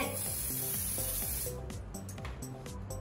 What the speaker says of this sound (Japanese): エドットのスプレーを使います軽くスプレーを振って